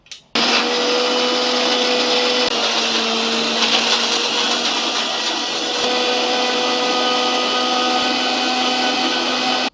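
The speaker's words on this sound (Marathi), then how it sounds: "आता याला झाकण लावून आपल्याला याचा ज्यूस तयार करायचा आहे" Watermelon juice with seven or eight ice cubes and black salt whirs in a lidded electric blender, a loud steady motor drone with grinding ice, running continuously after a brief start.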